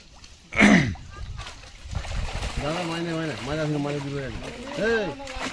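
Fish are emptied from a net into pond water during a netting of a fishing pond, with a sharp splash followed by softer sloshing and trickling, while people talk over it.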